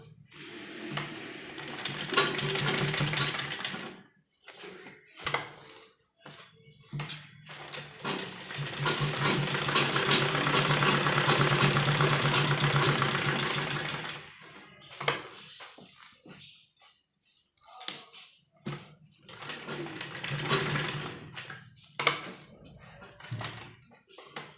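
A sewing machine double-stitches a kurti neck design in bursts, with a long continuous run in the middle and shorter starts and stops before and after, close and moderately loud.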